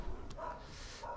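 A pet dog gives a couple of short, mid-pitched barks and yips, fairly close, over a low background hum of game sound.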